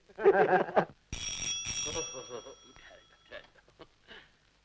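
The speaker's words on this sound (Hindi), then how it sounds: "डॉक्टर की घंटी बज रही है।" A bright electric telephone bell rings in two quick bursts amid talking voices, one person speaking before and another after the ringing.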